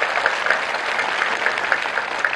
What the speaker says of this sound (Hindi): बहुत जोरदार तालियों से स्वागत करिए इस बेटी का